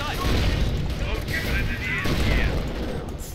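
In the World War II strategy game Company of Heroes, a dense, continuous roar of gunfire and rumbling battle noise plays for a few seconds, with a voice talking over it.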